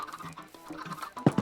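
Chickens in a video game cluck in short bursts, several soft calls followed by two louder, sharper clucks near the end.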